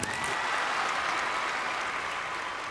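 Studio audience on a Family Fortune game show claps in a loud, dense burst of applause that stays full and steady throughout.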